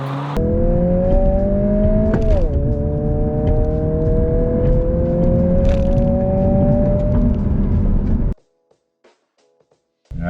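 A 2022 Honda Civic Si launching at 3,000 RPM: loud engine roar held near the launch revs, then rising steadily through a gear change, cutting off abruptly to near silence after about eight seconds.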